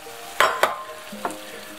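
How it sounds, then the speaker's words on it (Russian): Chicken liver tipped onto carrots already frying in a skillet gives a couple of sharp clattering bursts, then a softer stir, with a light sizzle underneath and no voices. "мы берем и печеночку куриную. Вот, высыпаем вот так по сковородке."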